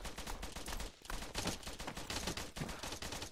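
Rapid volley of blank gunfire from reenactors on a coastal skirmish field, sharp cracks overlapping in a dense, loud fusillade with a brief gap near one second.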